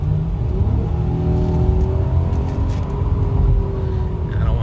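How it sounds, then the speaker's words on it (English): A 2020 Acura MDX's 3.5-litre V6 accelerates from inside the cabin, a deep rumbling drone whose pitch rises steadily over a few seconds, strong and close with road noise beneath and no speech. "you could hear that engine pumping. It's a big V6 engine."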